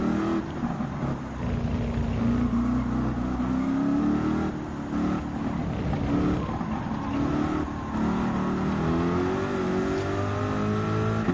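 Race car engine in Gran Turismo 7 during an online Manufacturers Cup race, a loud sustained roar that rises and falls in pitch through gear changes, with other cars' engines mixed in and no talk over it.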